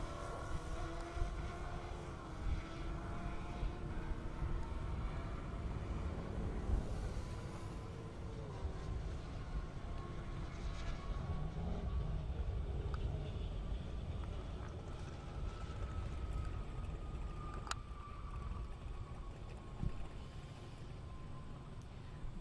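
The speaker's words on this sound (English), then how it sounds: "we've got Brandon in the Chevy and Travis in the Kawasaki" A Chevy car and a Kawasaki motorcycle drag race down a half-mile airport strip in Indiana. A steady, distant roar of engines carries over broad outdoor noise, with faint rising whines as they pull away.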